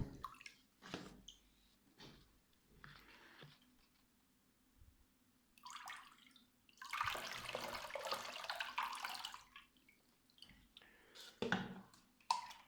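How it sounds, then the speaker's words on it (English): Water is poured over a mounted plant in short splashing bursts and one longer trickling pour, with drips running off, close by and fairly quiet, with no talking. "this one is nightmare to water"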